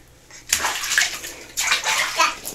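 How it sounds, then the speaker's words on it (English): A small child splashes water in a bathtub in two loud bursts of sloshing and splattering, close by, with a quiet pause between them. "Whoa, big splashes."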